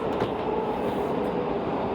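Interior ride aboard a WMATA 6000-series Alstom Yellow Line metro train: a loud, steady rumble of wheels on rail with faint rhythmic clacks and a low hum, continuous throughout.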